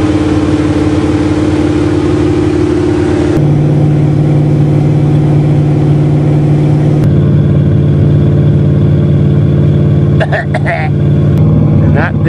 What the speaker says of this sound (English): That's those gas-sucking fast idles those old 70s cars had.